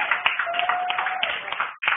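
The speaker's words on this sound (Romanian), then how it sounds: "Aplauze." Applause at a wrestling award ceremony, with steady clapping from a crowd over about two seconds. A sustained whistle-like tone sits under the clapping, and the sound briefly drops out near the end.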